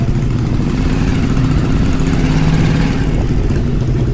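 Custom chopper motorcycle engine idling up close, a steady low rumbling throb that holds evenly throughout with no talk over it.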